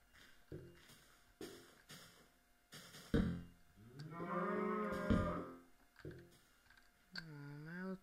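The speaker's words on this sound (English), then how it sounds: "Cows." Minecraft cows mooing, several drawn-out low moos in turn from close by, separated by brief clicks and quiet gaps, the final call wavering in pitch.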